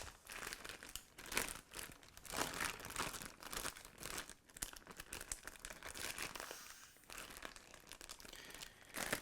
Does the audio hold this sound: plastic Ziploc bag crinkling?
yes